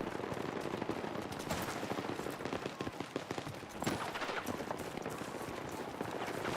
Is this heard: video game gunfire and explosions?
yes